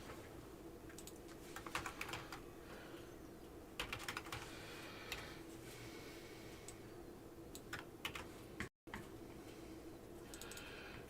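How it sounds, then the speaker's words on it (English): Rapid clattering keystrokes on a computer keyboard in uneven bursts, fairly close and quiet, with a brief dropout near the end. "While I start typing it in."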